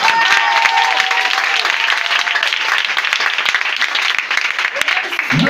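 A church congregation applauding and acclaiming loudly, with dense, continuous clapping and voices shouting throughout.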